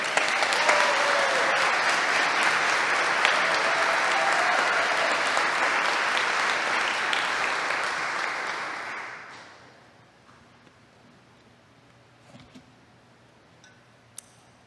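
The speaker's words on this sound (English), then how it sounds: "I love that applause" A graduation audience breaks into loud, sustained applause, a dense roar of many hands clapping that holds steady for about nine seconds, then fades out quickly, leaving a quiet room with a few scattered sounds.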